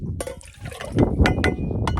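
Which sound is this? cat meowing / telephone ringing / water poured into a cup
water poured into a cup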